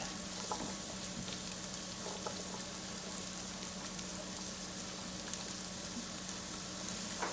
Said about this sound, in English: And go the carrots. And we're going to let these saute.